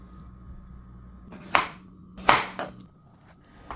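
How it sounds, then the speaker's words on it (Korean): A kitchen knife slices zucchini into thin half-moons on a cutting board, giving a few separate crisp thuds spaced about a second apart, close and clear over a quiet background hum, with no speech. "애호박은 반달 모양으로 두껍지 않게 썰고요"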